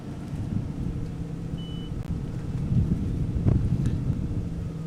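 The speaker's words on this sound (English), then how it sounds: "Wind blowing up a little bit. We've had 1 or 2 gusts come through here." Wind gusts roar and buffet the microphone at an outdoor waterski trick event, a steady low rumble that swells slightly toward the end.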